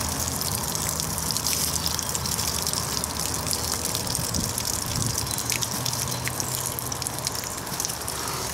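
Water gushes and trickles steadily out of a travel trailer water heater drain, a continuous close splashing stream with small drips, without speech.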